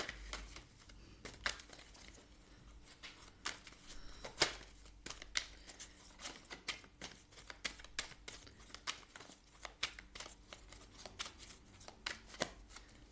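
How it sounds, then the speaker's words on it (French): Tarot cards shuffled by hand in a series of crisp riffles and soft flutters, close and fairly quiet, with sharp clicks between bursts and no talk. "Je remélange votre jeu."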